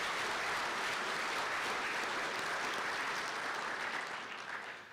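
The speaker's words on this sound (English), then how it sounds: "Let's give a round of applause for our competition sponsors." Applause for competition sponsors fills a banquet hall at a student design competition, a dense steady clapping that carries on throughout and starts to thin out in the last second.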